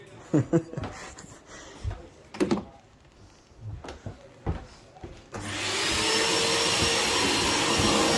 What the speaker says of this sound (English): The new edition 45 litre default wet and dry vacuum cleaner.